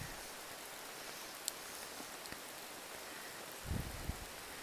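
Steady rain falls along the Appalachian Trail, a soft even hiss of drops on the ground and foliage, with a few brief louder patters near the end.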